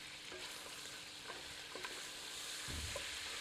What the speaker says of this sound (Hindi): इसे मटन में मिलाकर 2 से 3 मिनट भून लेते हैं।